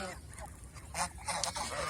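Ducks on a duck farm give several short nasal honking calls in irregular bursts, close and moderately loud over a low background rumble.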